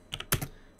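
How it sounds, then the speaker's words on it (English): A few quick, close keystrokes on a computer keyboard tap out in a short irregular burst, the loudest click in the middle, with quiet room tone around them. "So I'm just going to type in TrueNAS"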